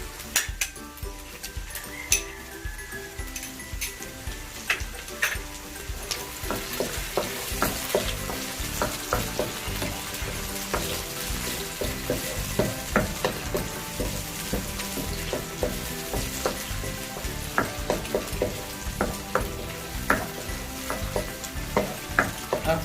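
Butter sizzles and crackles steadily in a hot frying pan for a buttered chicken dish, with repeated scraping and clinking of a utensil stirring through it, close and continuous with no talk.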